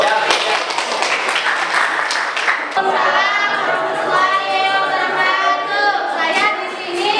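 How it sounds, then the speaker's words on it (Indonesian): Students applauding at a school leadership training session, a burst of dense clapping that carries on steadily for several seconds, with some children's voices mixed in. "Oke, tepuk tangan dulu."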